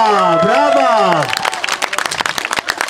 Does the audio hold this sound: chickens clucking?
no